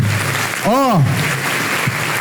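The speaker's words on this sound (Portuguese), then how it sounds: "Vamos aplaudir o nosso Deus bem forte." A church congregation breaks into steady, loud applause that fills the room, with a single rising-and-falling vocal cry briefly cutting through near the start.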